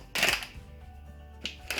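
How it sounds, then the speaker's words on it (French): Scissors snip open the plastic wrapping of a bouncy ball booster pack, with one loud crisp cut near the start and two shorter snips later, close and alone. "donc je vais devoir prendre une paire de ciseaux."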